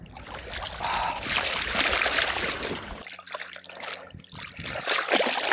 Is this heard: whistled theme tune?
no